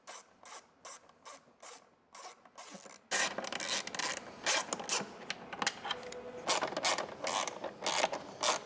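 A hand tool ratchets and clicks while backing out T25 Torx bolts from the lower fairing of a 2025 Harley-Davidson Street, quiet rapid clicking at first, then a louder run of scraping, clattering ratchet strokes in bursts.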